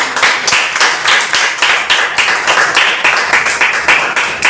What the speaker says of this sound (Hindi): मैडम के लिए, हमारे सीनियर के लिए भी जोरदार तालियां।